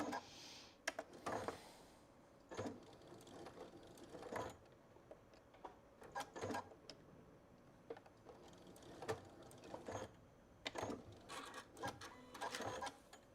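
A sewing machine stitches a tote bag seam, including backstitching, in short mechanical bursts of whirring and clacking separated by pauses. The bursts are close and moderately loud, with no speech.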